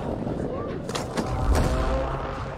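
Muffled gunshots go off in a video game firefight, a few sharp cracks and a heavier boom over a steady rumbling battle background.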